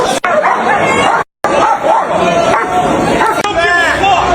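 Police dogs bark repeatedly amid a chaotic crowd outside a watch release, sharp barks and yips over constant babble of many voices, fairly close and loud throughout.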